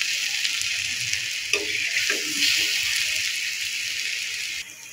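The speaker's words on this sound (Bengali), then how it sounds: "এবার ভাজা মিষ্টি কুমড়াটা পেঁয়াজের মধ্যে দিয়ে দেবো। দিয়ে সুন্দর করে মিশিয়ে নেব।" Fried pumpkin is tipped into a pan of browned onions and stirred for a spiced pumpkin fry. A continuous close sizzle of frying runs throughout, with a few scrapes and stirs of the spoon.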